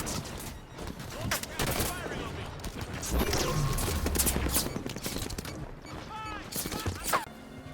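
Rapid gunfire bursts from the Halo 5 video game during a mission, with weapon fire and impacts repeating loudly across the clip amid game effects and crate-filled surroundings.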